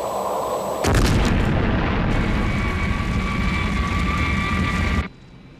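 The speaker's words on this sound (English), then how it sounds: "Clayton, missiles 5 and 6, destroy them." Missiles from a Thunderbird craft launch and explode in a TV adventure episode: a sudden loud roaring blast bursts in and holds as a dense rumbling wash for about four seconds before cutting off abruptly.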